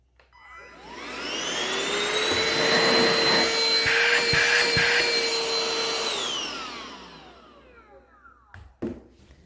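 A Bissell Powerlifter ION Pet stick vacuum whirs loudly for about six seconds with a steady motor whine, then powers down and fades, followed by a couple of faint handling knocks.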